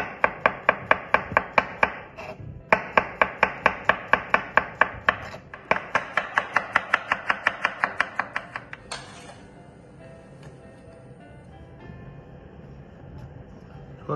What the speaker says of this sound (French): Et émincer.